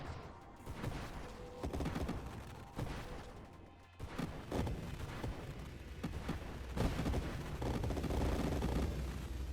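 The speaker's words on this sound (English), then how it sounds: "Some huge mine explosions." Rapid series of booming explosions and thuds from a game, overlapping in dense bursts with brief pauses.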